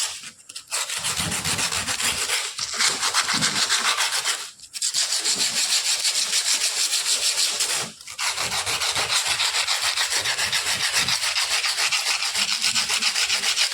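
Sandpaper scrubs rust from an iron cupboard in long runs of harsh, continuous rasping, close and loud. Two short pauses break the rubbing, and no one speaks.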